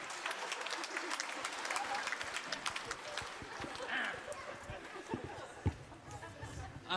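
A studio audience applauding to welcome a guest onto a talk show, steady clapping of a moderate crowd, fairly quiet, with voices talking over it.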